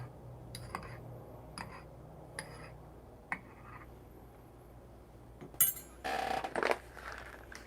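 A spoon stirring espresso in a cup at home: sparse, quiet ceramic ticks and clinks, then a denser burst of clattering metal-on-cup strokes near the end.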